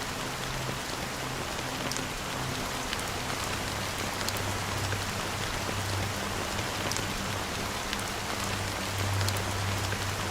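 Steady rain in a video game, a dense, even hiss of drops on surfaces that lasts throughout, moderately loud with no talk.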